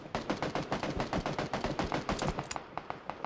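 Rapid automatic gunfire from up a hill in a video game, a dense run of sharp cracking shots in quick succession, loud and continuous with short bursts near the end.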